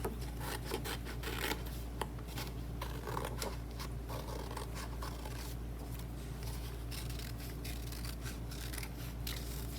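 Paper shapes are cut out with scissors for a kindergarten craft, repeated close snipping and rasping strokes in an uneven rhythm over a steady low hum, no talking.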